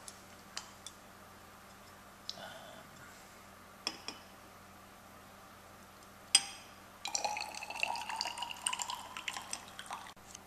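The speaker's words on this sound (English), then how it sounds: "I will top that up to 25 mils with distilled water" Distilled water is poured into a flask in a chemistry lab, topping a solution up to 25 millilitres. A few faint clicks and taps come first, then a soft, steady trickle of liquid runs for the last few seconds, close and quiet.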